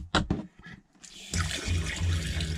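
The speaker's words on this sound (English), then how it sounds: "It's this thermostatically controlled faucet, Marlin Knox faucet mod." Water runs from a Marlin Knox thermostatic faucet in an RV, starting after a few brief knocks and then flowing steadily and fairly close.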